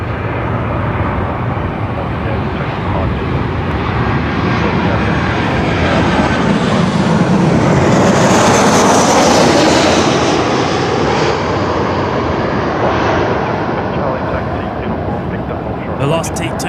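A Velocity airliner arriving from Canberra at Melbourne Airport makes a loud, sustained engine roar that swells to a peak midway and then eases slightly while staying strong to the end.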